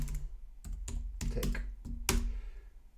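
Typing on a computer keyboard, a handful of distinct key presses at uneven intervals, close and clear with no talking.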